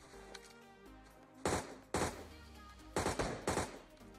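Gunfire in PUBG Mobile comes in sharp bursts of a few rapid shots each, four clusters spaced over a few seconds above a quiet game background.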